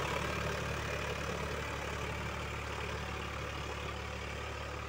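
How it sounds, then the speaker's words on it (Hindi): Eicher 551 tractor with a 48 horsepower three-cylinder inline engine running steadily, a continuous low rumbling drone with broadband noise, fairly faint and without talk. "ये 48 हॉर्स पावर का ट्रैक्टर है भाइयों, 551 आई लाइन इंजन।"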